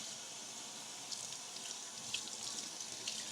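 Hot water running steadily from a tap in a soft, continuous hiss and splash, quiet and unbroken with faint spattering and no talking.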